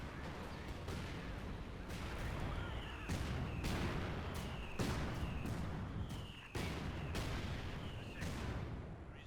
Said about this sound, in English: A lot of just random mortars.